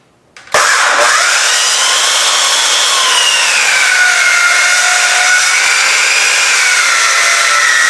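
A 12-inch power saw blade bites into a long piece of carving wood with a sharp onset, then grinds loudly and continuously with a slowly shifting whine.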